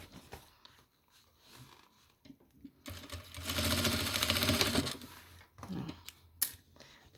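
A sewing machine stitches a fabric toiletry bag in a fast, even burst of rapid clatter lasting a couple of seconds, with softer handling sounds and brief ticks around it.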